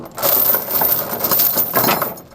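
A ratchet strap is tightened to tie down a tractor on a trailer, giving close, crisp metallic clicks in quick bursts with short pauses between them.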